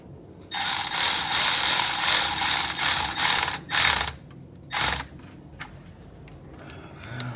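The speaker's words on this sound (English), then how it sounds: "now I just want to snug down the 10 millimeter hose clamps" A hand ratchet snugs down 10 mm hose clamps in the engine bay of a 1988–1989 Toyota supercharged MR2, giving a loud steady run of clicking strokes, then two short separate bursts before quiet.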